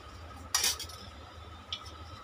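A small metal mini spoon clinks sharply once against a cooking pan while oil is added for beetroot sabji, a single bright clatter followed a moment later by a faint tap in a quiet kitchen.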